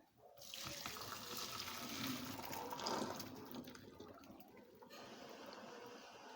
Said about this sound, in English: We're going to strain the noodles in the strainer.